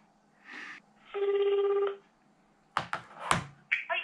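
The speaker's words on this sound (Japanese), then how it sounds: "一回電話したいなと思います" Telephone dialing tones for a call: a short beep, then a longer steady tone, followed by several sharp clicks and brief beeps as a handset is handled, close and clear in a quiet room.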